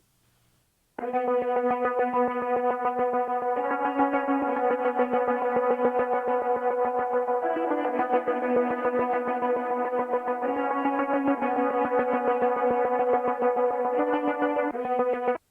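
A simple string sound heavily processed with combined effect plugins, pulsing in a fast rhythmic chop while sustained chords shift every few seconds, loud and steady with no talking.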